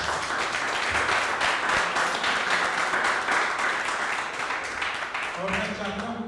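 A church congregation claps in a loud, continuous burst of applause that carries on for several seconds, with a voice rising over it near the end.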